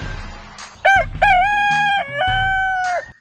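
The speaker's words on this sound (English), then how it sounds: "a rooster's call can reach 140 decibels or louder" A rooster crows once, loud and close: a short opening note followed by a long, drawn-out, strained call that trails off, with nothing else audible around it.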